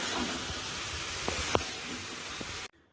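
Water comes to a boil in a cooking pot for lau chingri curry, giving a soft, continuous hiss and bubbling with a few small pops, then cutting off abruptly near the end.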